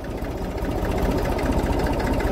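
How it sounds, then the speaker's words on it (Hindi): A tractor engine runs in a sugarcane field with a rapid, even mechanical chugging, close and steady throughout. "ट्रैक्टर को यहाँ इस खेत में धीरे से उतारने की कोशिश करेंगे"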